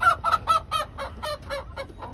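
Hens cluck in a quick series of about ten close, clear calls in an irregular rhythm, with a soft low background hum and no speech.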